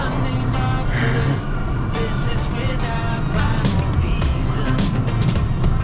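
A car in sport mode with turbo accelerates, giving a steady loud engine and road roar with rising tones throughout, heard from inside the cabin.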